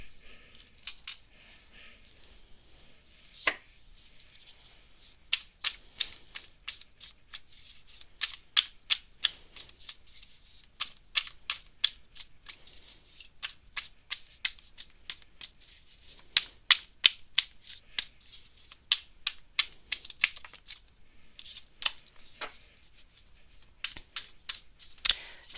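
Tarot cards being shuffled by hand, with repeated quick riffling and flicking bursts in an uneven rhythm, close and crisp, with no talking over them.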